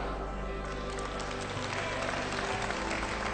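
An audience at a leadership talk breaks into sustained applause, a dense, even wash of many hands clapping that fills the whole stretch without pause.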